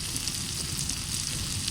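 Sambal, a chili paste stir-fried without coconut milk, sizzles and crackles steadily in a pan, a continuous close frying hiss with no talking.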